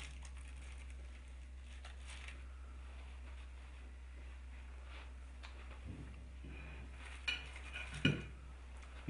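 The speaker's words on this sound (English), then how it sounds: "using a fork, stir the mac and cheese" A fork stirs mac and cheese in a hot Boston Market microwave meal tray, with faint scraping and a few sharper clinks near the end over a steady low hum.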